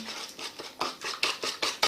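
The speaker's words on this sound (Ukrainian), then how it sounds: "І все збиваємо вінчиком до утворення однорідної суміші" A whisk beats eggs and honey rapidly in a bowl in quick rhythmic strokes, close and clear, with a soft clinking patter and no talking.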